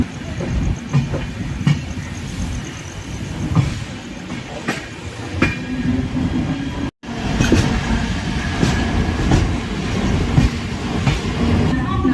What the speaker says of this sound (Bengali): গীতাঞ্জলি এক্সপ্রেস তার প্রথম স্টেশনে এসে দাঁড়িয়েছে।